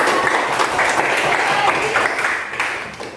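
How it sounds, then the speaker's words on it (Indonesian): Schoolchildren in a classroom burst into applause, a dense steady clatter of many small hands that holds for about three seconds and tapers slightly at the end. "Tepuk tangan buat Siva."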